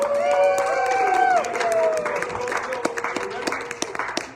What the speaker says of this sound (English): Give a Shelby a round of applause